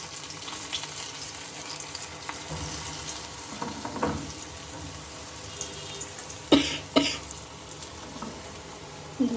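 Pieces of roti fry in a hot pan, giving a steady low sizzle with a few sharper crackles and spatters near the end, close and moderately loud, with no voices.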